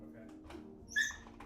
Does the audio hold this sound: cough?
no